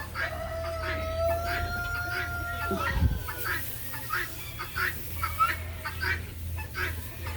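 Chickens cluck and murmur in a coop being readied for a cold front, a steady run of close, overlapping clucks with one louder squawk partway through.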